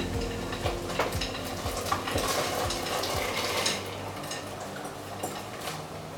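Vegetables tipped from a bowl into a pot of boiling water on a stove, a steady rustling, bubbling wash with scattered clinks and knocks against the pot, no talk.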